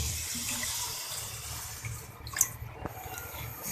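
Water pours steadily into a frying pan holding sugar, a rushing splash and soft continuous wash of sound, close by with no talking.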